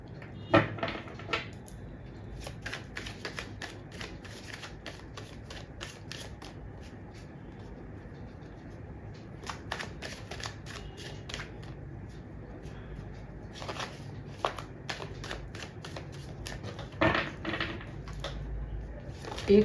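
Tarot cards are shuffled and handled in bursts of quick papery riffles and slaps, close and moderately loud, separated by quieter stretches of faint rustling and room noise.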